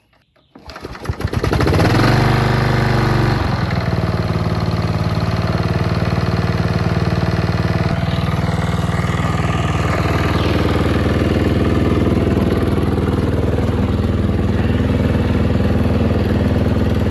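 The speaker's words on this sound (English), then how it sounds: "Oh, it would help if I turned it on." Snapper riding mower engine starting up and then running at a steady idle, a loud close mechanical drone with a ticking rhythm that holds evenly throughout, with no talk.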